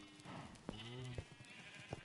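A sheep in a Minecraft-style farming game gives a short wavering bleat, faint and close, amid soft game noise and a little background speech.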